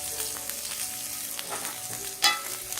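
Chopped green chili frying in hot oil with ginger in a pan for a home-style potato and pea curry, a steady close sizzle with a sharp crackling burst near the end; no talk.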